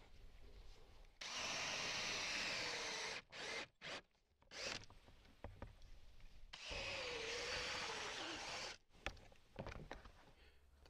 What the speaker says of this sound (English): I'm going to drill a 1 3/8 hole with a hole saw